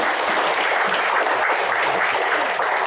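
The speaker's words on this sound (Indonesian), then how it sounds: "tepuk tangan untuk Pak Jaksa Agung" A studio audience breaks into loud, sustained applause for the Attorney General on an Indonesian talk show, a dense steady wash of clapping filling the whole stretch without a break.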